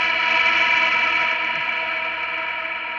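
A Meris Mercury X reverb pedal with wet trim engaged, sounding as a dense, shimmering wash of sustained reverberant tone that holds steady and slowly thins, with no one talking.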